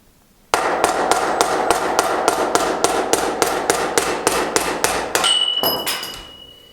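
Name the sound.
hammer knocking out Pressfit bottom bracket with tool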